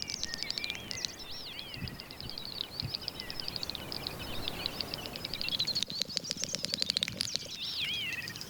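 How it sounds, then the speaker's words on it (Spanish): Rapid bursts of bubbling, clicking and twittering great snipe courtship calls repeat in a fast chatter over a steady outdoor peat bog background, moderately loud. "Es la llamada de cortejo de la agachadiza real."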